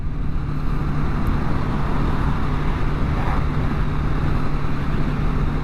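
A Bajaj Dominar 400 motorcycle cruising along a coastal road, its steady engine drone and low hum blended with constant wind rush, close and loud throughout with no talking.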